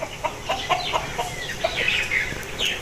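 An Aseel rooster clucks in a string of short, soft, close calls with a few higher squawky notes, fairly quiet and free of talk.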